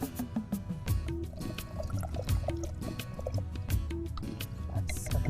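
Water is poured and dripped into a pot of kavlyachi amti, a Maharashtrian curry, with busy liquid splashing, drips and squishy sounds running steadily throughout, close and moderately loud.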